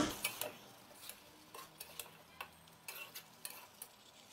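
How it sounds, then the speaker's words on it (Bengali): Papaya pieces are stirred into meat cooking in a pot, producing faint, irregular ticks and clinks of a spoon against the pot over a quiet background. "এখন নেড়ে চেড়ে মাংসের সাথে মিলিয়ে নিব।"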